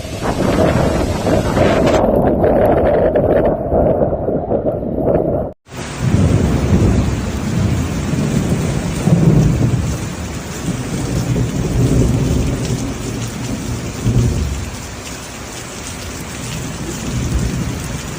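Severe convective thunderstorm over southern China: heavy rain pours steadily on surfaces while deep thunder rumbles and wind buffets the microphone, loud and continuous throughout.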